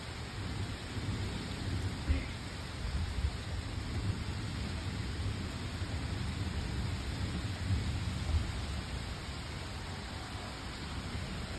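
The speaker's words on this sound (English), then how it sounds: "We needed this rain, you guys. We really needed this rain." Steady, heavy rain pours down continuously, with low rolling thunder rumbling underneath throughout.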